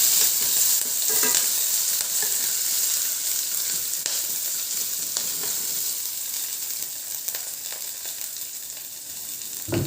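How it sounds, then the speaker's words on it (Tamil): Steady crackling sizzle of mustard seeds, curry leaves and cumin frying in hot oil, with sharper pops scattered throughout, close and continuous with no talking. "கொஞ்சமாக எண்ணெய் விட்டு கடுகு கருவேப்பிலை சீரகம் கொஞ்சம் போட்டு நல்லா பொரிஞ்ச உடனே"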